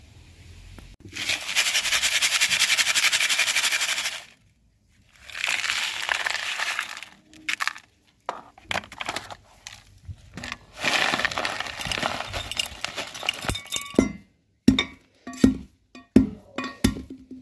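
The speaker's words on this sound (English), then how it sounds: "There we go, that's all the ore crushed up" Gold ore from an abandoned British mine being crushed in a dolly pot, long stretches of harsh grinding and crunching followed by sharp individual pounding knocks and clinks, close and loud, no voices.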